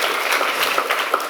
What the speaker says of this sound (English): Let's applaud for her.